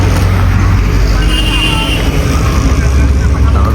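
Steady roadside traffic along the Mumbai to Shirdi pilgrimage route, with trucks and other vehicles passing. A continuous loud rumble and whoosh stays close throughout, with no clear pauses.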